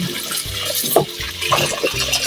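Water is poured steadily over fresh fish to soak them before cooking paksiw, with a close, continuous splashing and gurgling throughout.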